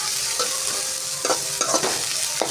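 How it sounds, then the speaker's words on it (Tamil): Carrots are stir-fried in a pan for chicken noodles, making a loud, close sizzle broken by quick scraping and tossing strokes. No one speaks. "உடனே வந்து கேரட்டை போட்டு நல்லா அரை பாக்கத்தில் நல்லா வதக்கி எடுத்துக்கோங்க"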